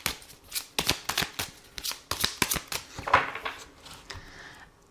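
Tarot cards being shuffled by hand, a quick run of crisp, riffling card slaps and flicks, close and clear with no talking.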